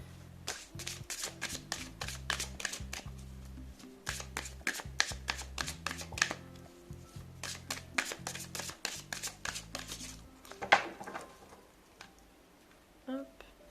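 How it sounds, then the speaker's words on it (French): Deck of Lumière oracle cards being shuffled by hand, with rapid close riffling and papery flicks in quick rhythmic bursts, soft music underneath, and a voice speaking at times. "C'est la première fois que je mélange le jeu."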